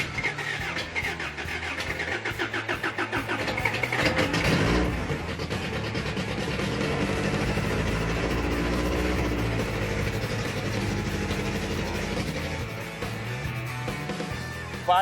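A rebuilt 350 car engine fires right up and keeps running, a loud, close, rough mechanical roar that swells after a few seconds and holds steadily.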